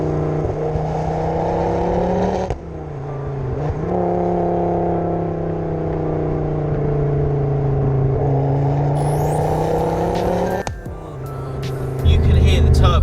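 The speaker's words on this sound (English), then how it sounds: "You can hear the turbo spool, you'll be able to hear it on camera." A 480 BHP Mk2 Ford Focus RS five-cylinder engine pulls hard from inside the car, its tone rising steadily through a gear with audible turbo spool and whistle, shifts breaking the drone, loud and close with someone talking.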